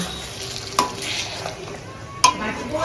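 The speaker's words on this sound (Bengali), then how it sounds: "এবার এটাকে একটু ভালো করে কষাবো। কষাতে হবে।" Bengali chicken chaap masala is stir-fried in a pan, a steady close sizzle with spatula stirring and two sharp metallic clinks against the pan.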